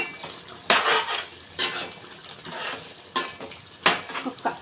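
A spoon scrapes and clinks against a pot while coriander is stirred into bagara rice, a few separate bursts of metallic scraping, close and moderately loud, with quiet gaps between strokes.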